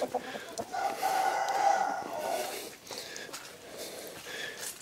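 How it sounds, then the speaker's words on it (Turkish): Chickens cluck softly in a muddy coop yard, the scattered calls low and somewhat distant amid faint farmyard noise. "Tavuklar çamur içinde."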